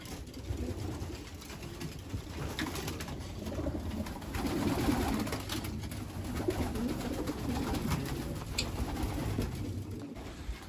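Pigeons at a pigeon center coo softly and repeatedly over a busy, noisy background, with scattered flutters and clatter throughout.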